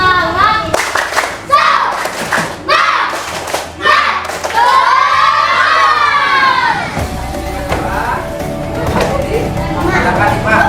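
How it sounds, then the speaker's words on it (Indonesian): Classroom of fifth-grade schoolchildren clapping in unison and shouting a spirit-clap chant, loud and close, with bursts of rhythmic hand claps and group shouting; a teacher's voice is heard between them. "tepuk semangat lagi"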